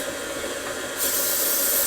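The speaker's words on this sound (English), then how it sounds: "I'm going to spray my mini muffin pans, just like this" A steady cooking spray hissing onto mini muffin pans, growing louder and brighter partway through as the nozzle is held down, close up with no talking.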